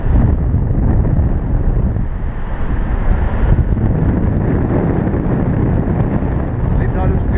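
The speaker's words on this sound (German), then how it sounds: "Der Wind hat im Süden gedreht." Strong wind buffets the microphone in a steady, loud roar with no letup, heard outdoors near a landing spot with a windsock while paragliding in southern Germany.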